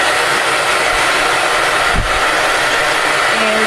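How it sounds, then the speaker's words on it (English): A hair dryer blows steadily on genie locs yarn braids, a loud, constant close whooshing roar with slight airflow changes that runs through the whole stretch with no talk. "So the first section took about 4 minutes to dry with the dryer."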